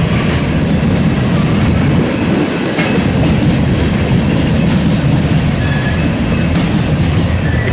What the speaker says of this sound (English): this train is heading southbound on the BNSF Sioux City Subdivision.